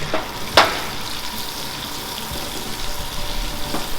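Garlic sizzles in butter over lowered heat in a pan used for searing beef for pot roast, a soft, steady frying hiss broken early by one sharp clink close by.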